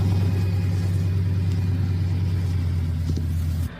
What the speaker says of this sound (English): the sound of engines from almost every thicket gives them away.